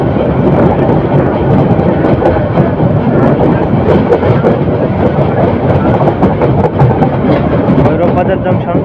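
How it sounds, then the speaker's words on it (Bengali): Titas Commuter train rolling into Bhairab Bazar Junction, a dense continuous rumble of wheels and carriages heard from onboard, with rhythmic clatter and a voice talking over the noise. "অবশেষে তিতাস কমিউটার ট্রেনটি ভৈরব বাজার জংশনে প্রবেশ করছে।"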